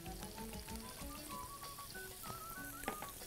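Spices such as cumin and black pepper stirred in a frying pan, a faint soft sizzle with light scraping strokes and occasional small clicks under quiet music-like tones.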